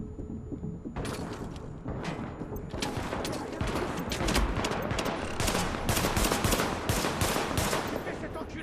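Dense, sustained automatic gunfire from Tom Clancy's The Division erupts after a second of quiet and continues in rapid overlapping bursts, loud and close, with shots layered on top of one another throughout.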